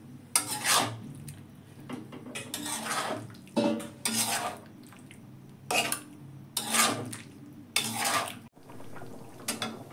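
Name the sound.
cauliflower pieces added to pan with spices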